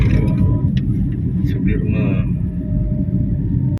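A truck rumbles past on a city street in Bandung at night, a loud, close, continuous low engine roar, with people talking faintly under it.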